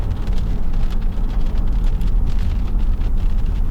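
Heavy rain falling outdoors in Canada, a dense, steady, loud hiss that runs unbroken throughout with no voices.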